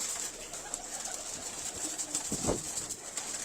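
Pigeons cooing in a rooftop loft of around eighty birds kept for sale, a steady soft murmur of coos with one fuller call standing out midway, set against constant background hiss.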